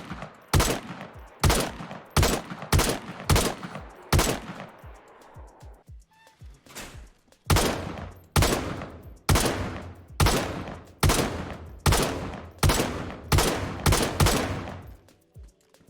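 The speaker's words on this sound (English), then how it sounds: "Updated the sounds for the SKS." SKS rifle gunfire in the DayZ video game: close, sharp shots fired in rapid bursts, then a short pause, then more quick bursts of loud, echoing reports.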